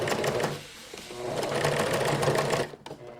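A sewing machine runs steadily at close range, stitching along a fabric edge with a fast mechanical chatter for about three seconds before briefly slowing and stopping.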